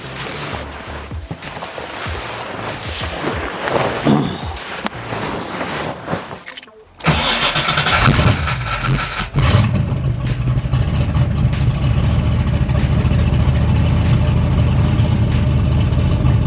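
A 1989 Ford Mustang GT, freshly fitted with a new fuel system, cranks briefly and fires, then settles into a loud, steady, deep idle that stays close and dominant for the rest of the span.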